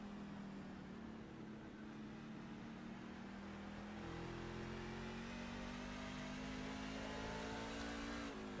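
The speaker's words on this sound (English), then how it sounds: "it sounds like only the 4 machine of Zach Wetstein out there shifting" A race truck in an oval short-track truck race revs and climbs through gears, its engine note rising and dropping between shifts. The sound is steady, droning and somewhat distant, with no voices.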